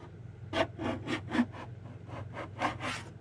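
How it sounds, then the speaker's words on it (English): A gasket scraper scrapes old gasket material off a metal surface on a 1974 Jeep CJ5, about nine rhythmic rasping strokes in a steady back-and-forth pattern, close and fairly quiet, with no talk. "I'm just using a gasket scraper"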